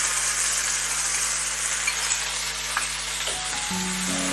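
Chicken white karahi sizzling and frying in a pan as a cup of yogurt goes in, a steady, close, bright hiss that runs throughout, with a few light clinks and a shift in tone near the end.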